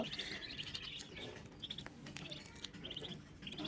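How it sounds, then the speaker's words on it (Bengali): Chinese duck ducklings give high, thin peeping calls in short clustered bursts over a steady low background murmur, faint and fairly close. "এগুলো হচ্ছে চীনা হাঁসের বাচ্চা।"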